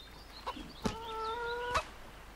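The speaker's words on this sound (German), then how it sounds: "Und mal einen Huhn erlegen." A chicken clucks in the Sky Saga video game, a few short clucks followed by a sustained tonal call between soft thumps, moderately loud over faint background ambience.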